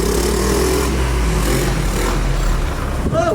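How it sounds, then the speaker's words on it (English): A trike engine runs loud and steady at close range, a constant rumble with slight revving near the end. "They got that trike running."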